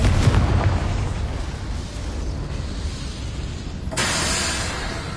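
Confringo blasting spell going off in Hogwarts Legacy, a loud rumbling burst that starts the clip and decays into a sustained roar, with a fresh, brighter crackling blast hitting near the end.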